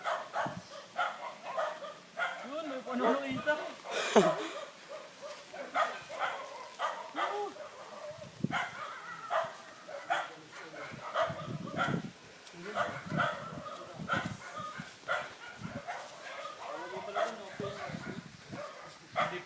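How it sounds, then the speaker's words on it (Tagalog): Several dogs bark intermittently in the distance on Mount Ping-As while people chat and laugh nearby throughout. "Ang daming aso."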